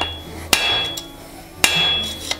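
A farrier's hammer strikes a horseshoe on an anvil while forging a clip: two sharp, ringing metallic blows about a second apart, each followed by lighter tapping and a lingering ring.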